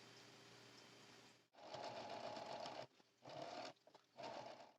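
A sewing machine stitches quilt-top panels in three bursts of fast, even whirring with short pauses between them, close and clear with nothing else heard.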